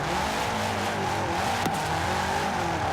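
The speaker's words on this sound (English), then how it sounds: "I've actually really been loving drifting this" A 2005 Subaru WRX STI drifts in Forza Horizon 4, its engine droning loud and steady with tire-scrub hiss throughout and a brief sharp transient near the middle, no voices.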